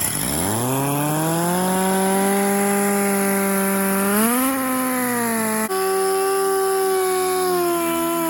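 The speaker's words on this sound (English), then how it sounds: "next step is to strip the paint off of the top side and the bottom side so that it doesn't dull the louver dies" Power tool stripping paint off a steel hot rod hood, a loud continuous whining grind near the mic whose pitch rises slightly and shifts as pressure changes against the metal.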